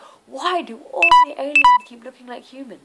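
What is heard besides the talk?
mobile phone beep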